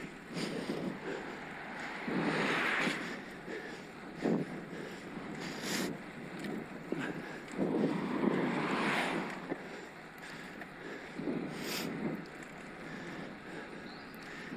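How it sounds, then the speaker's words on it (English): Wind roaring past a road cyclist riding into a strong headwind on a Shimano 105 Di2 bike, heard through wind-cancelling glasses as rough, surging gusts that swell and fade, loud and close, with no speech. "I'm sure you'll be able to hear some wind at least"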